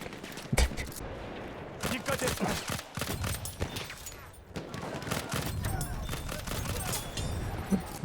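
Battlefield 1 gunfire, rapid bursts and single sharp shots cracking through the action with a brief lull midway, while a player talks over the fighting.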